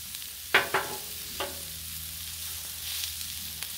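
Carrots, onions and celery tossed onto a hot Blackstone griddle, a soft steady sizzle with a few sharp scraping and clattering hits from a spatula early on, close.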